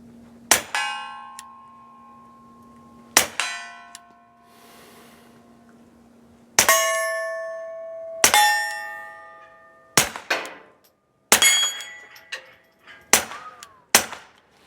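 Rifle shots firing Remington Golden Bullets at steel targets on a range, about nine sharp cracks spaced a second or two apart, each followed by a ringing metallic clang from the hit plate, with no talking.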